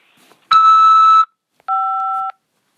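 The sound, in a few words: phone system beep before accepting call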